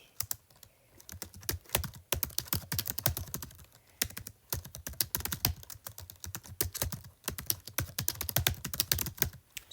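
Rapid tapping on an iPad screen keyboard while writing text in Pages, a dense run of close, crisp clicks in irregular bursts with brief pauses between phrases.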